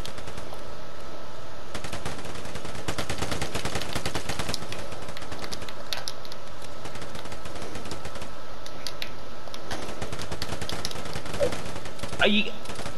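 Dense, rapid gunfire from the video game Vigor rattles almost without pause through the whole stretch, loud and close, with a voice talking underneath.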